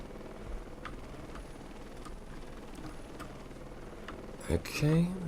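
A military helicopter in the video game Heliborne drones with a continuous low rotor and engine rumble at moderate level, with a sharper mechanical burst near the end.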